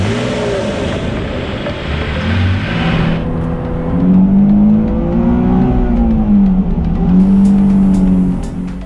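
A Nissan Fairlady Z Nismo Type 380RS, a race-derived road car with a modified engine, accelerates hard, its loud engine note climbing and falling through gear changes, close and continuous with no talk.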